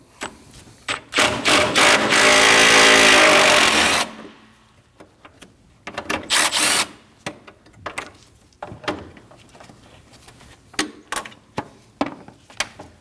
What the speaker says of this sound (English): we're gonna remove these two 10mm bolts. Using a 10mm socket, go ahead and take them out.